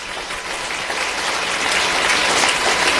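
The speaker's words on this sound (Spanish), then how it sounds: "Un aplauso con todo tu corazón." Steady, dense clapping from a large church congregation, loud and continuous for the whole stretch, with no voices standing out.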